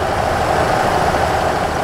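A Kenworth E700 cab-over truck idles steadily in Euro Truck Simulator 2, a constant even engine drone with low rumble and no change across the short stretch.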